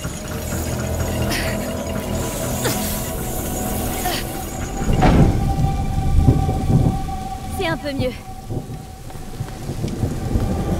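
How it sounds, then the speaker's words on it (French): Steady heavy rain with rumbling thunder crashes in the video game A Plague Tale: Innocence, the storm rolling loud and close throughout. Characters speak quietly beneath it. "T'inquiète pas, l'orage couvre nos voix."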